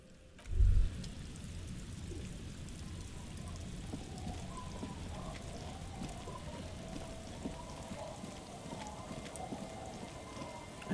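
Steady rain falls in the video game Disco Elysium, a soft continuous hiss of drops on surfaces that holds for the whole stretch, broken only by a dull thump near the start.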